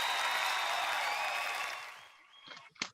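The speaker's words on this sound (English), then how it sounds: "Let's get a big round of applause, please, for Damarcus Beasley." A studio audience applauds loudly for a guest, the clapping filling the first two seconds before fading out, followed by a few brief voices.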